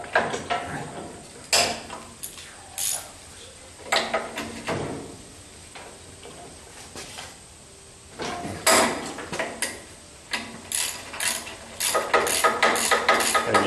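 A hand ratchet loosening nuts on a car's steering knuckle, heard as repeated close clicking bursts separated by short pauses.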